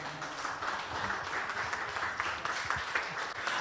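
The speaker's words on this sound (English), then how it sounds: "One more round of applause for them, please, for our young performers." Audience at a Miriam College Music Center student recital applauds young performers, with soft, even clapping heard at a distance and at low volume.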